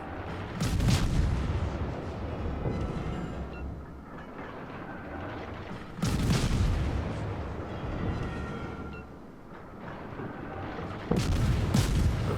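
Naval gunfire from a Tier-5 British destroyer, the Acasta, in World of Warships: three loud broadband booming salvos, at the start, around six seconds and near the end, each followed by a rumbling tail, with no talk.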